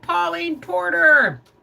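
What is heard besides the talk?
No distinct noise like a dog, phone or traffic.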